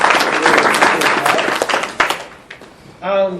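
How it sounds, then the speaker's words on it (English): Audience at a monthly member meeting bursts into a short round of applause, dense clapping for a couple of seconds before it fades and a voice begins speaking. "can we give a round of applause to our meeting host and sponsor, Gallagher."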